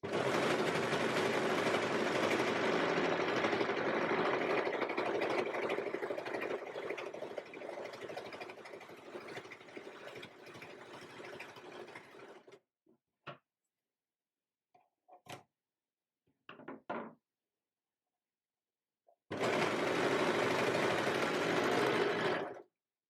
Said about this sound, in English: So I've just finished sewing these two layers together and adding the elastic